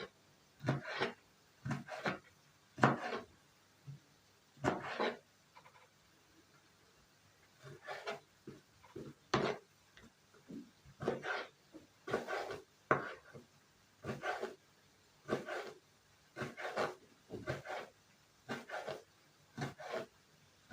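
A knife chops partly frozen liver repeatedly on a board in irregular bursts of firm, close thuds, with short pauses between runs of cuts.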